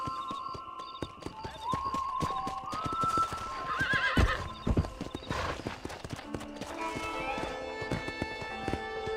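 Horse hooves clip-clop steadily in Red Dead Redemption, with a loud neigh partway through, sharp hoof strikes over a continuous background of game ambience and music.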